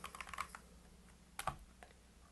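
Someone types quickly on a computer keyboard while editing Wikipedia, faint key clicks in a rapid cluster, then a few scattered taps, with no talking.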